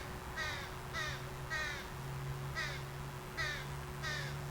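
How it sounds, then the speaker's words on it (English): Crows give a series of six short, raspy, squeaky calls at a steady pace, fairly close, over a low steady hum, on a hike in Orford, New Hampshire. "you hear that little high-pitched squeaky call. That's the crows."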